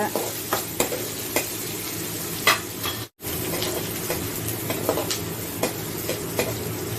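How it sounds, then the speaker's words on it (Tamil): Onions fry in a pan until golden for a broad bean gravy, a constant sizzle broken by repeated scraping stirs and light spoon knocks, with a brief cut to silence partway through. "கொஞ்சம் இப்படி நல்லா மிக்ஸ் பண்ணுங்க"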